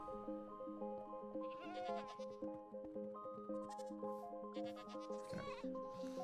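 Goats bleating in Minecraft, repeated nasal bleats over a steady tonal background of game music, fairly faint.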